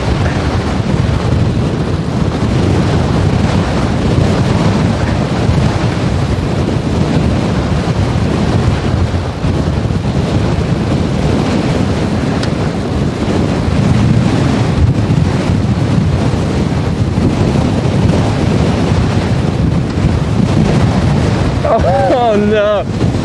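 Wind rushes steadily against a cyclist riding downhill through a valley, a loud, constant roar with gusty swells, and a voice speaks briefly near the end.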